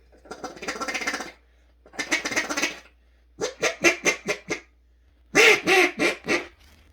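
A duck call blown in short bursts: two longer raspy calls, then a quick run of sharp quacks, a pause, and a few more loud quacks up close.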